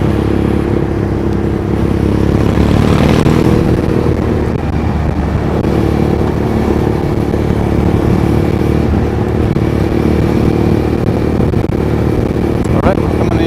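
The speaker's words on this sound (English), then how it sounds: "It's awesome to have that sweet exhaust sound, but man, it can be punishing when you're on a long ride" Loud, steady motorcycle exhaust drone while riding through Shinjuku, Tokyo, a continuous rumbling roar with no pauses.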